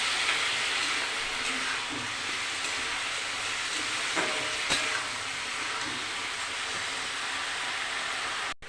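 Mixed vegetables frying for khichuri: a steady, close, broadband sizzle and hiss that runs throughout with small crackles and occasional clinks, then cuts off abruptly at the end, with no talk.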